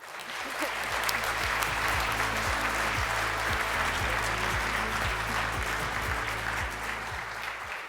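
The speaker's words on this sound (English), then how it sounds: "Now you can clap." A gala audience at an awards event breaks into sustained applause, a thick wash of clapping that swells and holds steady, while a low rhythmic beat plays underneath.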